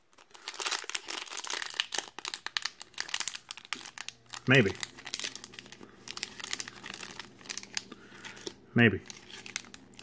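Crinkly foil packaging of Pokémon card packs being torn open, with two sharp ripping bursts standing out amid steady rustling and a voice speaking briefly.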